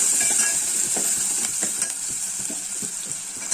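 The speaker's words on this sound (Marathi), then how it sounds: "आणि व्यवस्थित परतून घेणार आहे." Cabbage bhaji with chana dal and a pinch of turmeric sautéing in a pan, a steady high sizzle with soft scraping stirs and light utensil taps throughout, no voices.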